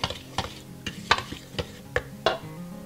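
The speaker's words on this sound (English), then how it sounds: "Now you can use a whisk or a biscuit dough mixer. I'm just aerating the flour." A whisk aerates flour in a bowl for biscuit dough, giving quiet, rhythmic scraping strokes about every half second, each a brief brushy swish against the bowl, close by with no talking.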